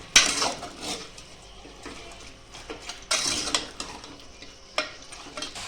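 Coriander powder, turmeric and salt being mixed in a pan for a spicy Nagari-style chicken rassa, with close spoon scrapes and clinks against the metal over a faint sizzle.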